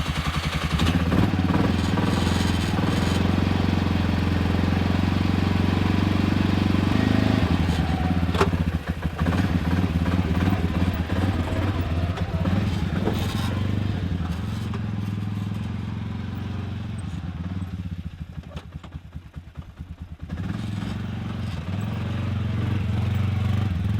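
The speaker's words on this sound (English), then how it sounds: "So we have about a 10 to 15 minute quad ride." A quad ATV engine drones loudly and continuously during a ride on a rough Arizona backcountry road, rumbling and clattering as the throttle rises and falls, with a brief dip in intensity midway.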